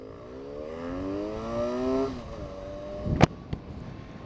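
Benelli 300 motorcycle engine revving up through the gears, rising harmonic whine for two seconds then a shift, followed by a sharp loud pop and a smaller knock, heard close.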